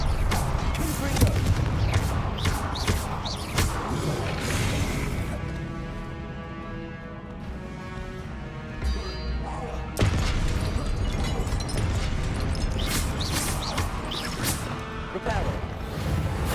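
Confringo blasting spells in Hogwarts Legacy, several loud impact bursts and crashes over a continuous wash of game sound and music, with a calmer tonal stretch in the middle before the explosions resume.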